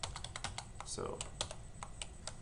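Rapid clicks of a computer keyboard as an apostrophe and letters are typed on a Windows PC, a quick irregular run of close keystrokes with a speaker's voice briefly over them.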